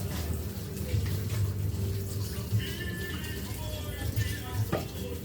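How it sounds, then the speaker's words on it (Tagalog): Strong stream of water pouring from a household tap, a steady gushing rush heard close up throughout, with faint background noises around it. "Tingnan mo, lakas ng tubig ngayon."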